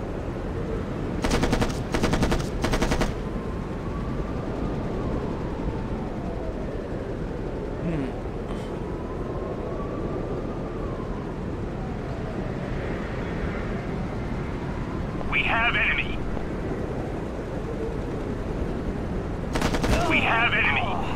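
Machine gun fire in the video game Act of War: High Treason comes in a few short, sharp bursts at the start and near the end, separated by quieter stretches of ambient battle noise.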